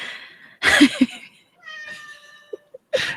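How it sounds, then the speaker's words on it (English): A cat meows clearly up close, a drawn-out call followed by a couple of short chirps and another meow at the end. "And there's our cat again."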